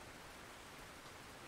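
Heavy rain in Russian Fishing 4 pours down as a dense, even hiss with no breaks, quiet and steady throughout at a carp fishing spot.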